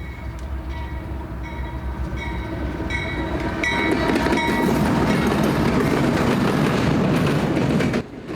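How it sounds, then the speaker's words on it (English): A freight train led by a locomotive rolls past nearby in Muncie, Indiana, a steady loud rumble with rhythmic clacking of cars over the rails and faint squealing tones early on. "this Auto Rack Extra is led by a very clean-looking locomotive"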